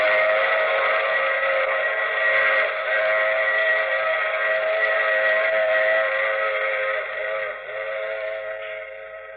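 A steam train whistle in an old radio drama blows one long, sustained, loud chord, holding steady and fading slightly at the end.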